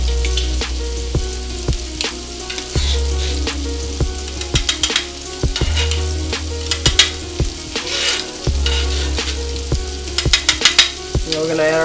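Shrimp with browned garlic frying in a pan, a steady loud sizzle running throughout, punctuated by sharp clinks and scrapes of a utensil stirring against the pan, with a low hum beneath and no talking.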